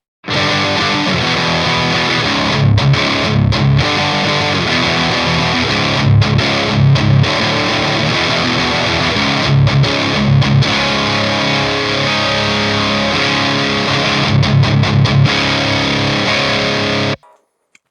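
Heavily distorted electric guitar chugs through a Synergy Diezel VH4 amp module, steady palm-muted riffing with short rhythmic breaks, loud and continuous until it cuts off.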